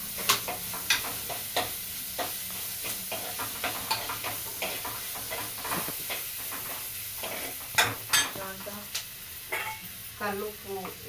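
Ginger garlic paste stirred into hot oil in a clay pot, a steady sizzle with scraping spoon strokes and clinks against the pot, near and under a talking voice.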